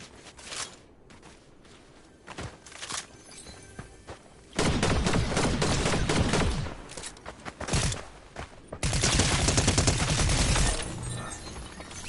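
Gunfire in the video game Fortnite, with scattered shots and footsteps early, then two long, loud bursts of sustained automatic fire close up, separated by a brief lull.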